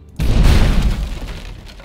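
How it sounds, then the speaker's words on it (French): A single loud, close explosion from the video game Magicka bursts suddenly and then decays into a rumbling, crackling tail over about a second and a half, with no talk. "je me suis mis un peu plus loin parce que ça fait vraiment des explosions"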